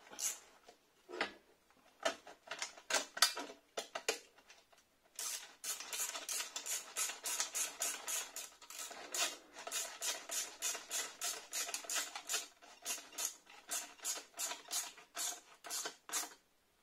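A screw is driven back into the cartridge of an exhaust silencer, giving a long run of steady, close ratcheting clicks in quick rhythm after a few scattered taps and knocks, with no talk.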